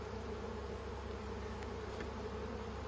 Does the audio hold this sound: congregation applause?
no